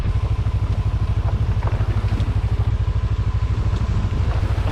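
A motorcycle ridden hard on a twisty road in Alaska, its engine droning with a steady low pulsing rumble close up, mixed with wind rush and no voices.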